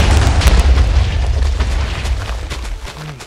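A heavy, loud Minecraft explosion booms with a deep low rumble that rolls on and slowly fades over a few seconds, with a brief voice near the end.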